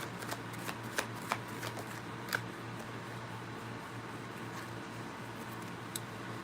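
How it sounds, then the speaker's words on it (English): Tarot cards shuffled by hand in a quiet room, a faint run of soft riffling flicks and sharp little taps over low background hum, no speech. "I'm being called to pull one more card"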